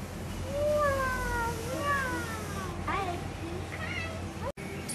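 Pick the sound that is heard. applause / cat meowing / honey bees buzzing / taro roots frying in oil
cat meowing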